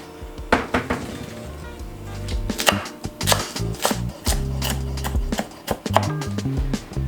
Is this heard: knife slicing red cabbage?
yes